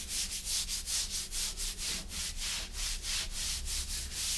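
Tile grout joints being shaped by rubbing, a rhythmic series of about a dozen gritty scraping strokes, close and steady, with no talking.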